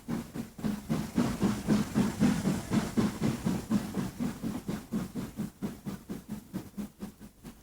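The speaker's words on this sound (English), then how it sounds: "a flashback to the last steam freight train to use the route." A steam freight train works hard along a railway line, rhythmic chuffing exhaust beats in a fast, even cadence, loud and close, with a faint breathy hiss between puffs.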